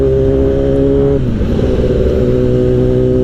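A Kawasaki ZX10R sport motorcycle engine roars loud and close with a steady, droning pitch that dips briefly, as if shifting gear, then pulls on strongly.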